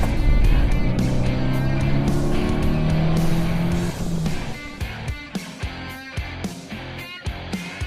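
Austin Cooper S driving off after a final brake test, with a revving engine and tyre noise close by at first, then fading into rougher, intermittent engine and road sounds.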